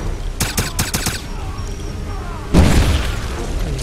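A grenade explodes with a heavy, loud boom in the video game Wolfenstein, preceded by a rapid burst of gunfire and followed by lingering battle noise.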